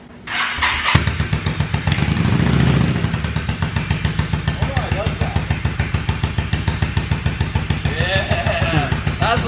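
A custom Yamaha V-Star 650 bobber starts after a long sit and settles into a loud, close, lumpy idle with a steady pulsing V-twin beat. A brief voice sits in the engine noise.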